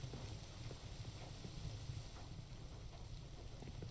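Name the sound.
rain in the video game Rust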